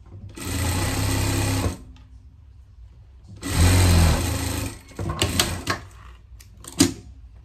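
A sewing machine stitches along a seam on a greyhound coat in two loud, steady runs of about a second each, with quiet pauses between and a few brief clicks and handling noises near the end.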